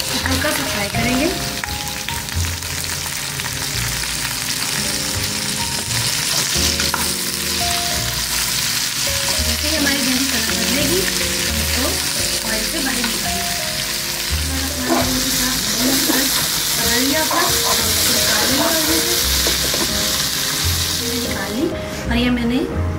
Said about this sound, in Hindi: रहमान रहीम ऑयल मैंने डाल दिया और हम इसमें डालेंगे अपनी भिंडी, हल्का सा फ्राई करेंगे.